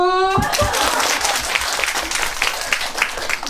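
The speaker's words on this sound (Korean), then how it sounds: "자, 박수!" Audience applause at a winter film festival post-screening talk, a dense burst of clapping that starts abruptly after a brief tone and continues steadily to the end.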